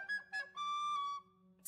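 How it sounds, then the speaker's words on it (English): A whistled tune in the video game Enshrouded, a few clear sustained and gliding notes in quick succession, heard alone and fairly close, ending with a short burst of noise. "Stop whistling."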